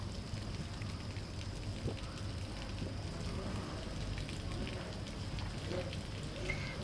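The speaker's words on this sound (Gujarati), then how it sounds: "ધોધમાર વરસાદ વરસ્યો હતો" Heavy rain falls over a rural village area in Gujarat, a constant dense hiss with no clear breaks, fairly quiet and even throughout.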